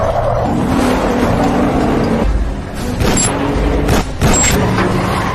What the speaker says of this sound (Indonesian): Abah baru menyadari jika di belakang ada sebuah mobil yang mengikuti